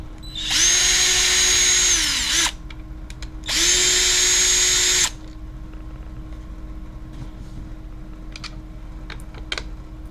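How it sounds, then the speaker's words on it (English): Two sustained bursts of a power drill backing out screws on a Redcat Racing R5 RC car, each lasting about two seconds with a steady high whine, close and loud, followed by quiet handling clicks. "we're gonna open the screws and see what there is underneath"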